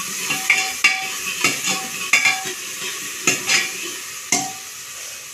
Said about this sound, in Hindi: तो जीरा हो चुका है, अब मैं डालूंगी इसमें अनियन